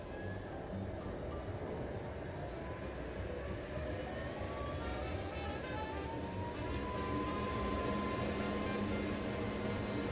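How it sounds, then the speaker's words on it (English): A loud helicopter engine in a flight simulator game, a continuous droning turbine roar with a slowly rising whine layered on top, steady and sustained without voices. "It's a little bit of a loud helicopter."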